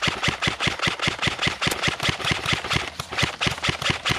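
A WW2-style airsoft Thompson fires in long, rapid automatic bursts, a loud, steady mechanical rattle of evenly spaced shots heard up close with no talking.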